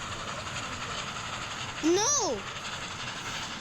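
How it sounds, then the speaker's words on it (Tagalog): A fast train passes nearby with a brief rising-then-falling whoosh and tonal sweep over a steady background rumble, and a voice speaks once. "The train is so fast."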